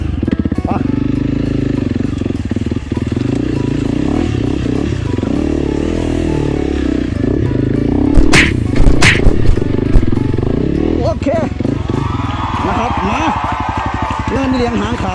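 Motorcycles climb a very steep hill trail, engines droning steadily with revving surges and clattering bumps, close and loud, while people talk over the noise throughout.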